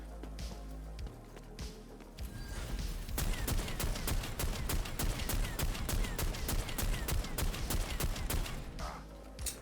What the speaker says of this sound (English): There's a lot of shooting you did there, bud.